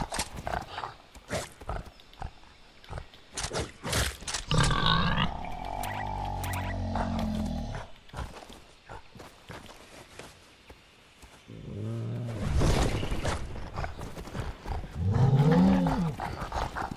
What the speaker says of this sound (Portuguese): Esse javali tá domado.